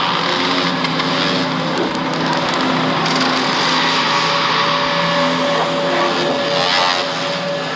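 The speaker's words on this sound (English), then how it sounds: "The sound you're hearing is a light black hole banging on space each time it gets close." A sonification of a lighter black hole falling into a heavier one plays as a loud, dense, continuous roar full of rough, crackling grit, with faint tonal streaks running steadily underneath.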